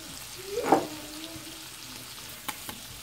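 Mushrooms simmering in a pan for stuffed turkey roll filling, a soft steady sizzle with a brief stir of a utensil and a couple of light clicks, no talk.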